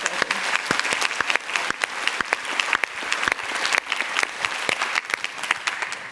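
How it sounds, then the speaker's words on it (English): Conference audience at a Ruby programming event bursts into applause, a dense steady wash of many hands clapping throughout, fairly close and loud with no break. "Can we get some applause?"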